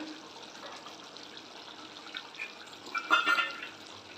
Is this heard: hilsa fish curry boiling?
yes